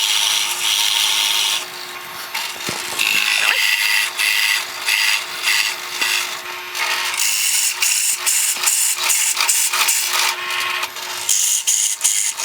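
Wood being hogged out of a guitar body with a tool, a continuous rasping, grinding scrape with repeated short strokes and brief pauses, close and loud throughout.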